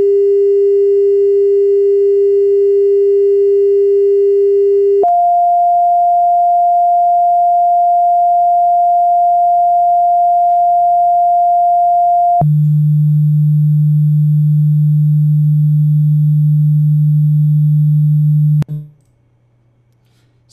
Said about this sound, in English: we should also hear the tone change